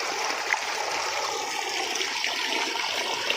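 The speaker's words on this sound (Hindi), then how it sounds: "ये ट्यूबवेल का पानी बिल्कुल फुल होके चल रहा है, तो फ़्लो अच्छा है" Tubewell water runs at full flow as a steady, close rushing and splashing stream with a bright gurgling texture that stays even throughout, with no talk over it.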